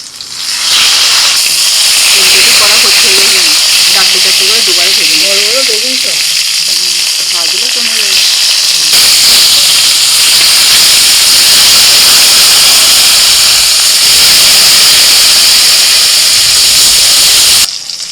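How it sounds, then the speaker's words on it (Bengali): Spiced brinjal fries in a pan with a loud, close and continuous sizzle and hiss. A voice briefly hums or speaks over it early on before the frying carries on alone. "এবার এই যে মশলাদার বেগুনটা ভেজে নেবো"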